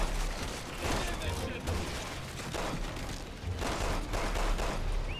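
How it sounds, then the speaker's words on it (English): Automatic weapon fire in the video game Resident Evil 6, a dense, continuous rattle of gunshots and blasts running throughout, with the players talking over the gameplay. "There's like an automatic weapon thingy somewhere"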